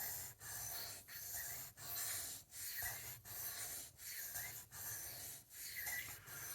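Blade strokes rubbing back and forth across a sharpening stone, a soft rhythmic scraping repeated about nine times at an even pace, close but quiet.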